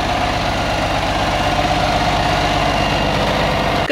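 A tractor engine idles close by, a loud, steady low rumble with an even mechanical throb and faint vibration, running unchanged throughout with no voices.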